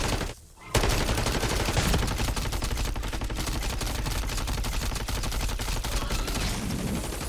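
Rapid sustained gunfire at the mimic in MW3 Zombies, a dense automatic burst running nearly continuously after a short pause at the start, loud and close.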